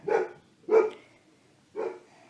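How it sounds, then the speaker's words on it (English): Dogs bark indoors, three short, loud barks with the first two close together and the third after a pause of about a second. "sorry for my dogs, they're barking."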